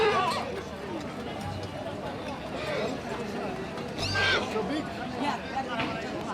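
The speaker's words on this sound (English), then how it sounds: "Have you ever seen a horse as big as this?" Horses gathered before a competitive horse event, with occasional whinnies and hoof sounds amid a busy crowd and ongoing chatter, the animals moderately close and mixed under people talking.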